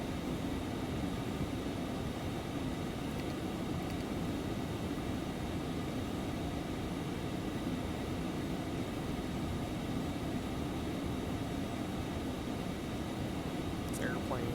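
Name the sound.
Embraer Phenom 300 jet flying in X-Plane 11 video game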